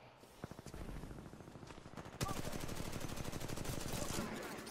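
Rapid bursts of sniper rifle gunfire in Titanfall 2, dense repeated cracks growing louder partway through and continuing as a sustained volley, with a voice faintly talking under the shots.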